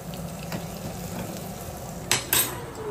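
Tempering spices with curry leaves and asafoetida fry in hot oil, a steady close sizzle with two sharp louder crackling bursts near the end.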